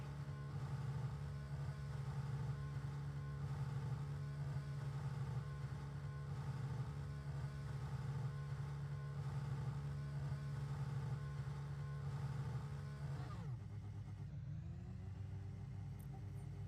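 In an F1 video game at the Japanese Grand Prix, a race car enters pit road with a steady, faint engine drone that drops in pitch near the end as the car slows.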